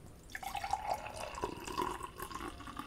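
Pomegranate juice poured from a freshly opened bottle, a quiet trickling stream with small splashes and drips, close and soft with no talking.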